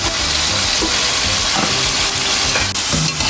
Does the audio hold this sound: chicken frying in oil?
yes